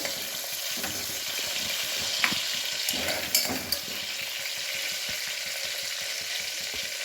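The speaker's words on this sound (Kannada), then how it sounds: "ಈರುಳ್ಳಿಯನ್ನು ಸರಿ ಫ್ರೈ ಮಾಡ್ಕೊಳ್ಬೇಕು." Chopped onions sizzle steadily in a hot pan for chana masala, with a continuous frying hiss and a few brief stirring clinks, no voices.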